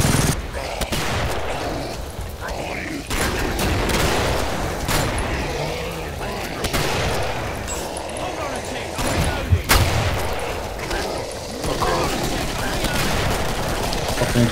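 Shotgun blasts and other weapons fire in the co-op shooter game Killing Floor, repeated sharp bangs and bursts at irregular intervals over dense action noise, with players shouting between shots.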